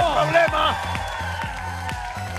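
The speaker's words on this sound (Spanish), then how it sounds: "aprovecho fuerte el aplauso para Jay Mamón en el jurado" Audience applause and cheering on an Argentine TV variety show, heard as a steady crowd wash of clapping and whoops under loud studio music with a rhythmic beat, while a host's voice carries over the top.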